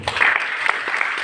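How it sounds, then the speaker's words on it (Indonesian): Church congregation clapping after a call to applaud God, a short burst of scattered hand claps from a crowd, moderately loud and lasting about a second. "Mari kita tepuk tangan Tuhan dulu."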